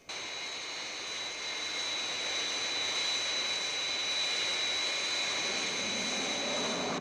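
A Fireflash airliner on final approach roars as one loud, unbroken jet drone with a steady high whine on top, holding level for several seconds before cutting off.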